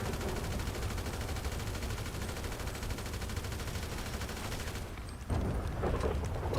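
Sustained gunfire in GTA Online aimed at a Buzzard helicopter, a dense, loud, continuous rattle of rapid shots lasting several seconds before a brief dip and a burst of louder blasts.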